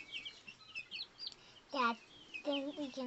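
Two-week-old Golden Spangled Appenzeller Spitzhauben chicks give soft, close chirps and peeping calls in short bursts, heard faintly under nearby conversation.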